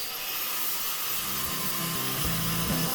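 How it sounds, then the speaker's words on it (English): A sanding disc grinds rust off the bodywork of an Alfa Romeo 145 Cloverleaf, a steady high abrasive hiss with the motor's pitch rising and dropping as pressure on the metal changes, close and loud. "Quick clean up with the old sanding disc to get rid of the old rust"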